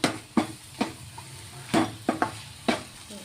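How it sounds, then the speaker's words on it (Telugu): Mutton sizzles in a dry pan without water while a spatula stirs in sharp, irregular strokes, about eight scrapes in quick succession. "మటను వాటర్ లేకుండా బాగా డ్రై వేగింది"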